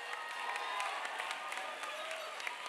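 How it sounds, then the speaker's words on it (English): Massive applause and cheering from a poetry slam final audience for the poets, a dense, steady wash of many hands clapping that fills the hall from start to finish. "Can we have another massive round of applause for our poets?"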